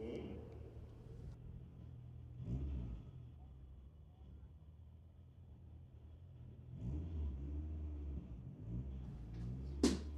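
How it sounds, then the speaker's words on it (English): VW Beetle drag car fitted with a turbocharged Honda K20 engine at a drag strip, rumbling and revving at a distance in two swells, with a PA announcer talking over it. "his Beetle running the Honda K20 turbo motor under the hood"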